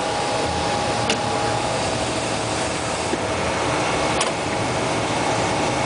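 Royal Master CNC centerless grinder for guidewires running with a steady broadband mechanical roar and hum, with a couple of faint clicks; no talk.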